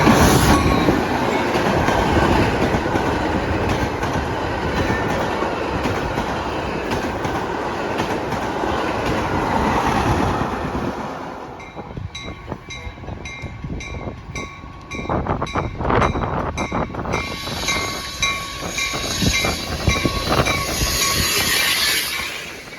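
A passenger train rolls slowly past a derailed freight train on the neighbouring track, its wheels beating a steady clickety-clack over rail joints beneath a loud rumble, with brief metallic squeals and a quieter rhythmic stretch midway.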